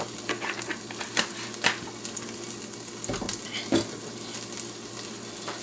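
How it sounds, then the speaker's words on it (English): Vegetables frying in oil in a pan for a chicken stir fry, a close, steady sizzle with crackling and quick scraping stir strokes and light knocks. "just enough oil to cook the vegetables"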